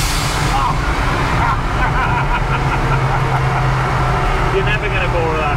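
A turbocharged 16-valve Hillman Imp engine, a Volvo 1.9, heard from inside the cabin as a constant loud droning rumble mixed with road noise, with people talking over it.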